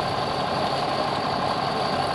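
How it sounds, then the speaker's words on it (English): The engine of a small rope-guided cable ferry at Butrint drones in a steady, continuous low rumble that stays close and even throughout, with no voices. "You can hear the engine of the small ferry"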